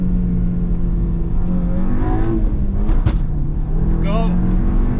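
Volkswagen Golf Mk7 GTI accelerating hard, engine note climbing steadily through the revs toward a 7,000 rpm limit, then a brief dip at a gear change before pulling again, loud from inside the cabin with a voice speaking over it.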